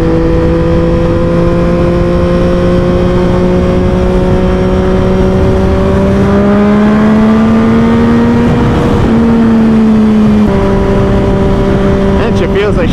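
A Triumph Daytona 675R motorcycle engine drones steadily under way while being ridden, loud and continuous. Its pitch climbs slowly, dips briefly, then holds steady, with wind noise throughout.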